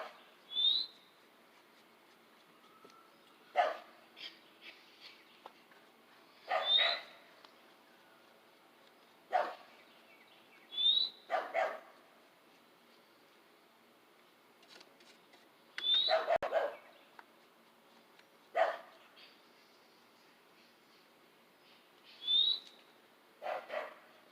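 A dog barks in short, sharp bursts spaced a few seconds apart, fairly close, with quiet pauses between.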